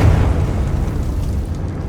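A deep, rumbling blast from the Confringo fire spell in Hogwarts Legacy, one loud boom that fades into a low roar over its short length, with no voices.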